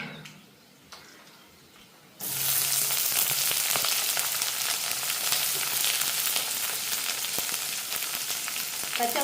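Onions and green chillies hit a hot pan in a home kitchen, bursting into a loud, steady sizzle after a brief quiet start and frying continuously to the end with no voices.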